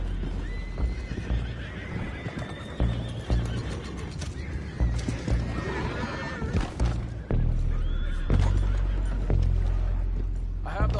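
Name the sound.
horses neighing and hooves in video game Red Dead Redemption 2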